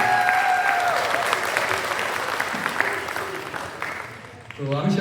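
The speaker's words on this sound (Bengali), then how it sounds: "তাদের সবার জন্য একটা বড় করে করতালি দিই" Audience at a university student association's cultural welcome event for new students breaks into sustained applause, a dense even wash of clapping that fades near the end as a voice returns.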